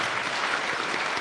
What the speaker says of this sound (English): So we can give everyone a round of applause